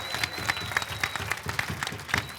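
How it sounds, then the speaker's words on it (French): A crowd at an improv show final applauds steadily, dense clapping with a few sharper individual claps standing out, moderately loud and continuous throughout the short stretch. "j'aimerais ça qu'on leur donne une méchante bonne main d'applaudissements"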